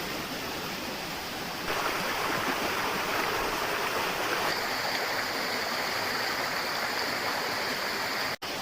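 Ra Ella waterfall pours over a wide rock face, a steady, dense rushing roar of water that continues unbroken, fairly loud and close, with no voices.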